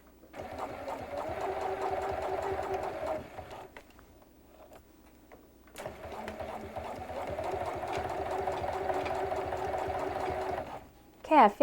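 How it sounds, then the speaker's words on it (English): A sewing machine fitted with a zipper foot top-stitches snap tape, giving two long runs of steady, close mechanical whirring separated by a short pause. "all we're going to do is top stitch one line on each side of these snaps using the zipper foot"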